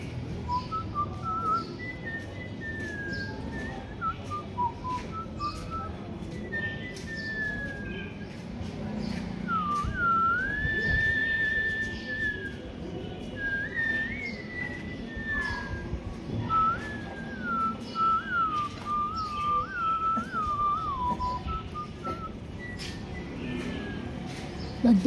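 A man whistles a long, melodic line in imitation of shehnai music, with sliding, ornamented phrases that rise and fall in a continuous tune. Faint room noise sits beneath it.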